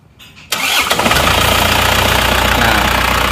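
An engine cranks and catches after a brief quiet moment, then runs steadily and loudly with a rough knocking beat while coolant spurts from the radiator, a symptom of compression leaking past a faulty cylinder head.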